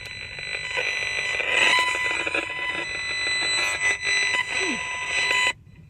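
An RF meter's alarm beeping loudly near a 5G small cell antenna, a continuous electronic tone with rapid pulsing that wavers and briefly dips before cutting off abruptly.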